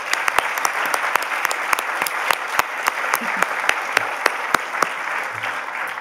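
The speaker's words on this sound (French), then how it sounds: "On pourrait les applaudir aussi." An audience applauds at an awards ceremony, a continuous bed of clapping with sharp individual claps popping out close by, steady and moderately loud throughout.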